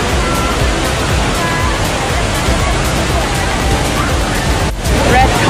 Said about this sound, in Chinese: 是目前全球至高的室內瀑布。